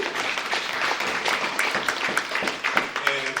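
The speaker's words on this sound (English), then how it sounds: "This is the part where you clap." Audience at a movie-night panel event clapping in a steady, moderately dense burst, with a voice briefly audible near the end.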